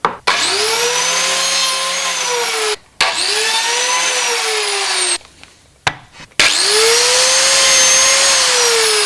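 A biscuit joiner set to 45 degrees cuts into New Zealand swamp Kauri wood with a loud, steady whine. Three long runs are broken by brief pauses, and the motor drops away between cuts.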